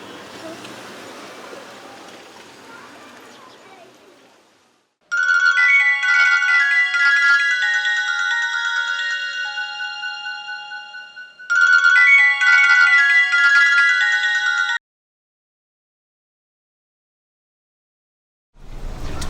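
A mobile phone ringtone plays a repeating electronic melody, loud and close, for about ten seconds after an outdoor hush, then stops into silence.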